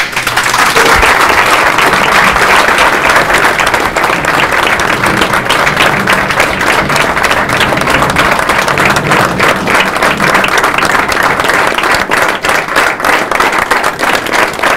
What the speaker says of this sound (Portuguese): pedir uma salva de palmas para o meu pai.